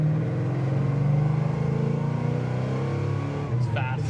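A 1970 Chevrolet Chevelle SS accelerates hard, its V8 engine roaring loud and close as the revs climb steadily, with a brief shift near the end.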